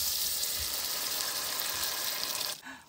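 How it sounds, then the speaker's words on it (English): Carrots boiling in a pan give a steady hissing, bubbling wash that stays constant and close before cutting off abruptly near the end, with no talking. "We have carrots already boiling."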